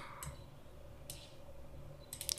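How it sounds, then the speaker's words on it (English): A computer mouse's left button clicks three times, each a faint, sharp tick widely spaced over a quiet background hum. "And now I'm clicking with the left mouse button."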